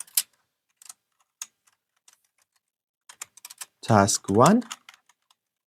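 Keystrokes on a computer keyboard while JavaScript code is typed, a few scattered clicks followed by two brief bursts of speech near the end.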